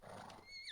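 A horse in the game Medieval Dynasty gives a short, quiet whinny, a brief rising and wavering call heard close but faint and alone.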